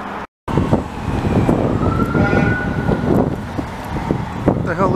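A Montreal transit police car siren wails faintly in the distance in winter under a car's interior rumble while people talk; the tone rises and falls once or twice.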